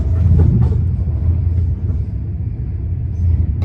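A passenger train ride between Zurich airport and Winterthur in Switzerland, a deep, continuous rumble inside the carriage with a brief louder swell at the start, steady and close, with no talk.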